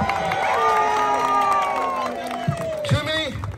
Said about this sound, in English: Let's applause Germany